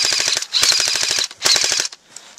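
Airsoft guns firing outdoors during an airsoft game, loud rapid bursts of clicking shots in three quick strings separated by short pauses, close by and without talk.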